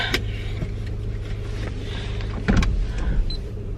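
A car drives after school, its steady low cabin rumble continuous throughout, while an electric window motor whirs and a few knocks and clicks sound nearby inside the car.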